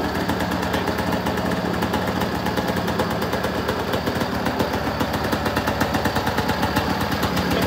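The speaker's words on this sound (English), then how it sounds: "a two-stroke single-cylinder 400, well, what does that sound like?" A 2021 Yamaha SXVenom snowmobile with a 400 two-stroke single-cylinder engine runs steadily, a loud, close, rapid buzzing putter that holds an even idle with a raspy, crackling edge throughout.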